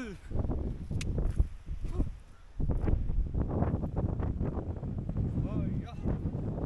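Wind blows steadily outdoors across an open Tamil Nadu landscape, buffeting the microphone with a rough, continuous rush while people talk over it.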